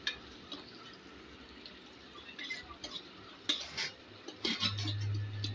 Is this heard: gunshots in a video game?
no